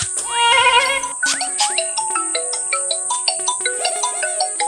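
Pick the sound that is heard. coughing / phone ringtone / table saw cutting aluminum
phone ringtone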